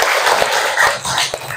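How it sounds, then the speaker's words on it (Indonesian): Students in an Indonesian classroom clap for a presentation, a loud, close burst of rapid clapping with uneven swells and dips and a few sharper knocks underneath. "Beri tepukan yang gemuruh"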